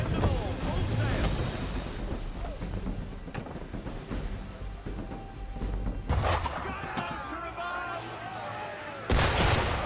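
Cannon fire aimed at a sailing ship in the Assassin's Creed 3 video game, with heavy booms over wind and ocean waves, and a burst near the end, while a voice speaks amid the action.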